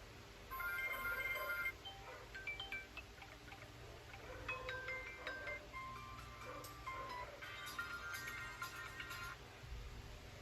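A soft electronic ringtone melody plays quietly from a Samsung J5 Prime phone speaker at full volume, in repeated short phrases, faint against a low background hiss.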